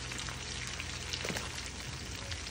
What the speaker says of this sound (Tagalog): I-melt na po natin ang ating butter. And after that, ilagay na po natin ang ating onions.